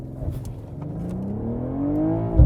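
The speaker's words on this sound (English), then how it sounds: "2024 BMW M440i. X-Drive Gran Coupe with launch control." A 2024 BMW M440i xDrive Gran Coupe with the B58 engine launches under launch control, its close engine note climbing steadily in pitch and loudness for a couple of seconds, ending in a low thump.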